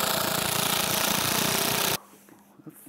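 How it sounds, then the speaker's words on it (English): Power driver sinking 2-inch screws into wood on a furniture build, a loud steady buzzing whir for about two seconds that cuts off sharply, leaving a quiet room. "And then I can come back and drive in some 2-inch screws."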